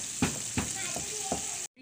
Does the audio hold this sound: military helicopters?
no